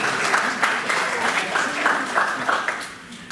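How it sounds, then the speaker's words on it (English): A gathering applauds at a spiritual talk, with steady, lively clapping from a room full of people, fairly loud and close, and scattered louder claps rising above the wash before it fades slightly at the end. "Give yourself a round of applause"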